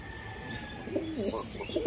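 A Madrasi pigeon gives a few soft, low coos close by in a quiet room, faint and brief against light background hum.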